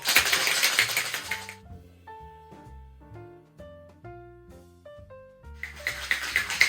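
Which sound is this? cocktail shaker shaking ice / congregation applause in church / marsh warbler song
cocktail shaker shaking ice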